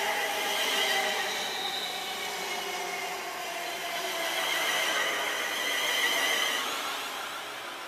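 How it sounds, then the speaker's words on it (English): A London Northwestern Railway Class 350 electric unit arriving at Birmingham International on the West Coast Main Line, with a steady rumbling roll and faint wheel squeal sustained throughout at moderate distance. "arriving in here is a London North Western Railway service to London Euston."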